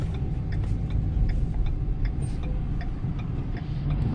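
A 2019 Ford F-750 dump truck's diesel engine runs steadily at a low idle rumble, with faint ticking and rattles over the continuous drone.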